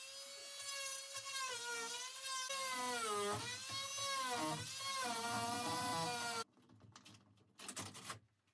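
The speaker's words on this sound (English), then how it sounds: "start tackling this second bulkhead with the help of the new multi-tool" An oscillating multi-tool cuts through a wooden bulkhead inside a boat, giving a loud, wavering whine whose pitch rises and falls under load for about six seconds. It then stops abruptly, leaving quieter scraping and knocking.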